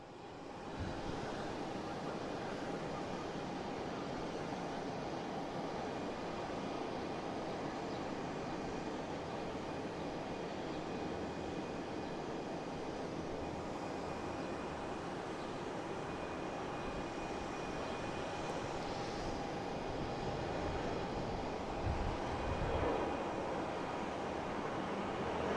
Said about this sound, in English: JetBlue coming in from West Palm Beach